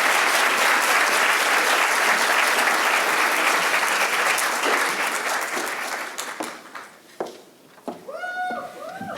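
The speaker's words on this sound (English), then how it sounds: "please help me in giving a big round of applause to Mallory Iverson for her outstanding dedic" Audience applause at a university physician assistant graduation ceremony, a dense sustained clapping from a large crowd that thins and fades out toward the end as a voice begins.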